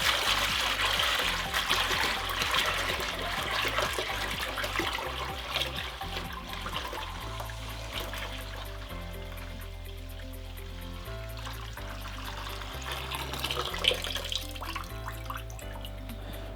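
Dirty water from cleaning a ductless mini-split heat pump air conditioner poured down a drain, a continuous close splashing and gurgling flow that slowly thins toward a trickle, with background music underneath.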